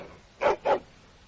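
A war dog in the Dragon Age Origins video game gives two quick, close barks in a row, short and punchy, with near silence around them.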